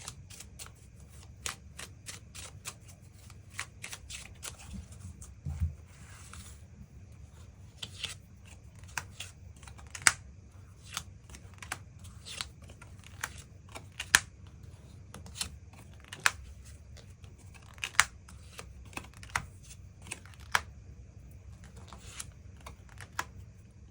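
Tarot cards being shuffled and drawn on a quiet table, a long series of sharp taps, flicks and light slaps at an uneven pace, some louder than others.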